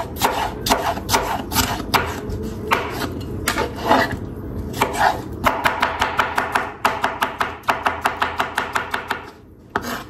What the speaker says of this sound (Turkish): Hemen doğrayıp hazırlıyoruz.